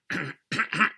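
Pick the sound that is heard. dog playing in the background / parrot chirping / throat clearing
throat clearing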